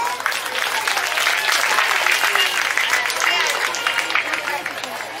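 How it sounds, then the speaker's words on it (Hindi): An audience at a church felicitation ceremony in a parish applauds warmly, with dense sustained clapping from a crowd holding steady for about five seconds. "ताली बजाइए"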